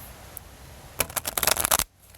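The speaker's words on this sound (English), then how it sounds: "with my tarot cards I shuffle like this" Stiff new tarot cards being shuffled by hand: a quiet pause, then a close burst of rapid papery riffling and slapping that lasts under a second before stopping abruptly.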